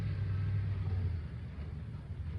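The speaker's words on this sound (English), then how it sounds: "Let's wait for this car actually" A car drives past, a loud low rumble that is strongest at first and then fades as it moves away, with a steady tire and engine roar and no talk.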